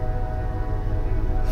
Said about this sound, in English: Fuck you, train!